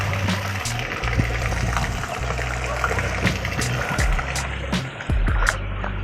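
Rainwater draining off a flooded rooftop after a drain is opened, a constant close rush and trickle of flowing water with a low steady rumble underneath, outdoors in rainy weather.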